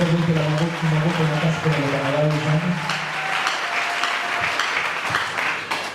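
Church congregation bursting into loud applause as a sung or held tone fades out, clapping rising into a dense, sustained patter of many hands.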